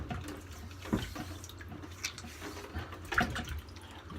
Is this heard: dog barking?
no